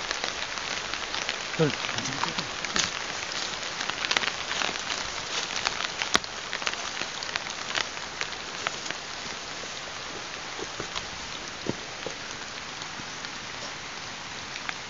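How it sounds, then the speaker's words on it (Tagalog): Heavy rain pours steadily and loudly with a dense hiss of drops striking surfaces, heard outdoors during an exploration near a safe house, with a voice briefly speaking over the downpour. "Tingnan mo, pinapalakas yung ulan."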